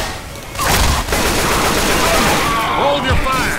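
Gunfire in Left 4 Dead 2 crackling in dense overlapping bursts, loud and close, with shouting voices mixed in.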